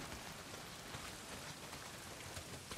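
Steady, dense rain pours down in the zombie survival game Days Gone, a continuous hiss of drops on the ground and surfaces with no break and no voices.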